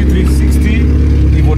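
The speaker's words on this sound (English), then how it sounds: "That is loud though. Is it a straight pipe?" A Mitsubishi Lancer Evo FQ360's loud exhaust holds a steady, deep rumble close by, with no clear rise or fall in pitch over the short stretch.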